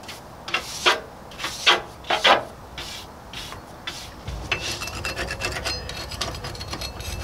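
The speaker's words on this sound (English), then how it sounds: "I get all the old crud off from around the hatch runners" Old crud being scraped and rubbed off the hatch runners of a narrowboat, a few short rasping strokes up close, then a steadier, denser scratching and scrubbing without a pause.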